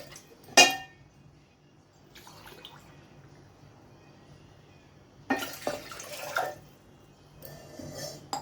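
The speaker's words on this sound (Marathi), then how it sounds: "2 ग्लास पाणी मी या पातेल्यात घालत आहे" Water splashes into a metal pot in short bursts, with a sharp clink at the start and quiet gaps between pours.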